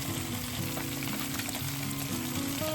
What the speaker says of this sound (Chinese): 加入姜蒜，大火爆香。